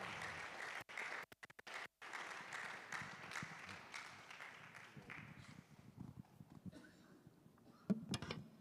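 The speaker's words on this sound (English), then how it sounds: "A round of applause" An audience at the GUSA Games 2022 launch applauds as the KNUST president is invited up. The clapping is faint and distant, with brief dropouts early on, and it slowly thins and fades toward the end.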